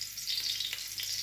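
Garlic sauteing in oil in an already hot pan, a bright continuous sizzle with faint stirring scrapes, close and steady for about a second, no voices.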